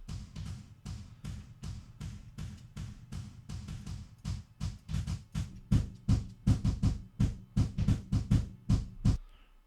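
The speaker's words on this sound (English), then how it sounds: "Here's the stereo room for the kick." Stereo room microphones capture a metal kick drum as a fast, dense run of booming, roomy hits that grows louder and tighter toward the end, then cuts off abruptly; no one speaks.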